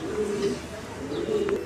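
Pigeons at a fancy pigeon farm, among them young birds and feather-footed pairs, give soft, close coos over a brief stretch of light background noise.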